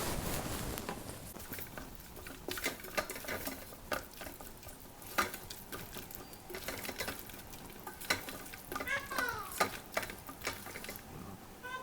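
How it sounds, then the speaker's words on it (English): A spoon keeps stirring red sauce in an Instant Pot, with steady scraping and clicks against the pot and a low wet bubbling underneath, fairly close, and no talking. "I'm going to give it a quick stir."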